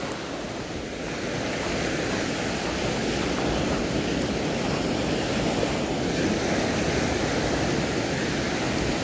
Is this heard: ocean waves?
yes